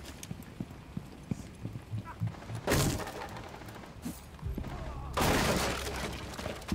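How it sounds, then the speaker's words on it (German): Flashbang grenades going off in the video game Rainbow Six Siege, two sharp loud bursts with lingering crackling decay, set among lighter in-game footstep thumps and clatter. "Blendgranate draußen."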